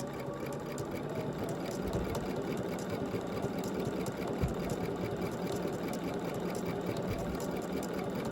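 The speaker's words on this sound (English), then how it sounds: "I am ready to stitch, and it's stitch number 4, and I'm guiding right in the middle." A sewing machine stitches steadily during machine quilting, giving a close, continuous mechanical whir with a fast even needle rhythm and no talking.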